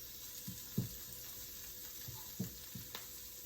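A pan for chicken curry sizzles quietly under a low background hiss, broken by a few soft clinks and stirring knocks spaced irregularly through the stretch, with no talking.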